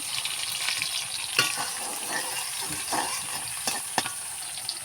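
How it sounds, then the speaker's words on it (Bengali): Chopped onions fry in a pan for a country chicken curry, a continuous bright sizzle broken by several scraping stirs of a spatula, with no one speaking. "তো পেঁয়াজটা আমি একটু ভাজা ভাজা করে নেব"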